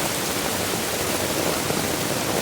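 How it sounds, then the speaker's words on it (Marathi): A swollen river in the Konkan overflowing its banks during a heavy-rain flood, heard as a dense, steady roar of rushing water that holds constant loudness throughout, with no voices. "पूर्ण नदी ओव्हरफ्लो होऊन चालली"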